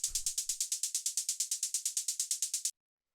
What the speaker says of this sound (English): The next thing that we have here is this little operator hi-hat